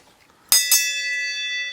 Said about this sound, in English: I'm gonna ring a bell now.